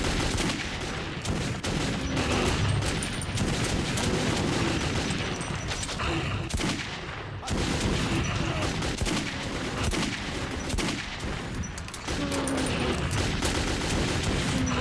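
Sustained, heavy gunfire in the Metro 2033 tunnels, dense rapid bursts running almost without pause at close range, with one brief lull midway.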